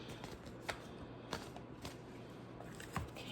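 Tarot cards are shuffled quietly and close by, with soft riffling and several light slaps and taps in an uneven rhythm, no talking over them.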